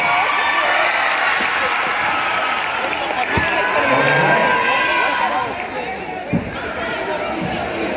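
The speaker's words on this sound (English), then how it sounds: "let's give her a big round of applause" A school audience gives a volunteer a burst of loud, sustained clapping and some cheering at a pro bike stunt show, the applause dense and close before tapering off, while a presenter talks over it.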